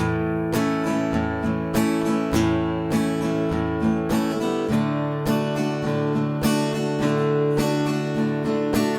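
Strummed guitar chords ring out in a steady, repeating rhythm, switching between two chord shapes every couple of bars, played alone with no voices.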